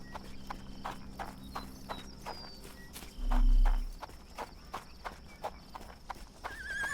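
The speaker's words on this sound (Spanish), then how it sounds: "Mira el caballito." Horse hooves clip-clopping at a steady walking rhythm in the Sherlock Holmes The Awakened video game, with light game ambience and a brief low thump midway.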